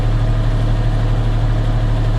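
Tractor engine idling at lowered throttle, a steady low droning rumble with an even hum, close and constant with no voices.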